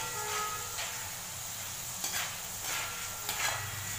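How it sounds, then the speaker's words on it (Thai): Peeled chickpeas deep-frying in oil, a steady soft sizzle with faint bubbling and a few brief scraping stirs, close by and moderately quiet, with no voices. "ตอนนี้ถั่วที่ทอดนะคะก็เริ่มแห้งแล้วแต่ยังไม่กรอบค่ะต้องทอดไปอีก"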